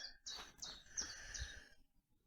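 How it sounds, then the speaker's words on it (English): A few high, bright bird chirps repeated in quick succession, faint and somewhat distant among trees at Rowberrow Iron Age camp, a quiet outdoor setting. "It's beautiful, I can hear the birds singing."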